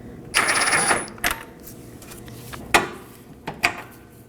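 Wrench work removing a 24mm front lower control arm bolt on a 2020s Toyota Corolla: a few sharp metallic clicks and clanks, one longer ratcheting burst, close and moderately loud.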